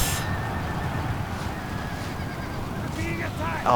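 Horses neigh and whinny amid a Medieval II: Total War battle, a steady dense clamor of combat noise with a few whinnies rising near the end, while a voice talks over it.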